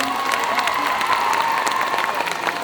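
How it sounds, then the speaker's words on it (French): A convention crowd applauds the jury of a cosplay contest, with a brief burst of steady clapping mixed with cheers and scattered shouts. "On les applaudit très très fort"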